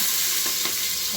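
Onions go into hot oil with already-popped mustard seeds and green chillies, giving a steady, close, loud frying sizzle with stirring through the short moment, for a Tamil goat intestine curry served with idli.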